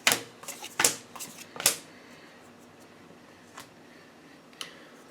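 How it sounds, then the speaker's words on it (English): A deck of cards is shuffled, giving several quick bursts of riffling and flicking up close, followed by quieter stretches with an occasional soft tick. "There's cards popping out all over the place."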